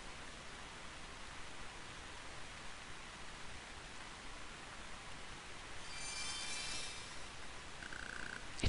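Steady rain falls in the Final Fantasy Tactics Advance video game, a continuous even hiss of faint-to-moderate loudness that swells slightly toward the end, with no voices present.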